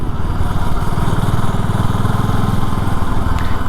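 A BSA Goldstar retro motorcycle engine thrums loud and close while riding, a steady low pulsing beat that holds without a break throughout.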